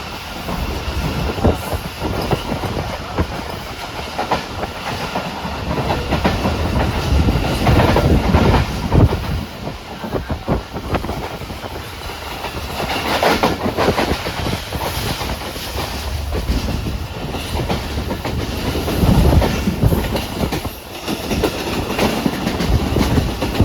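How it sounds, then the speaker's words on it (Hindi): The Shalimar Express passes through Allahdino Sang railway station on Main Line 1 between Karachi and Nawab Shah. A loud, steady rumble with rhythmic clickety-clack of wheels over rail joints continues unbroken throughout, with no voices. "अल्लादीनो सांग रेलवे स्टेशन से गुजर रही है 27 अब।"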